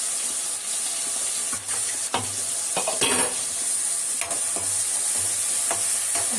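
Tomatoes sautéing in a pan for pavakkai kuzhambu, a loud continuous sizzle with repeated spoon scrapes and stirring knocks throughout, close by and without speech.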